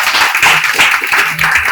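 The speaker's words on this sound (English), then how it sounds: "round of applause for our professor sir" An audience in a hall applauds a professor, a dense, loud burst of many hands clapping together that continues throughout.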